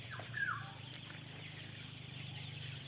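Chickens let out of a poultry farm give a brief cluck early on, then only a faint, quiet outdoor hum remains.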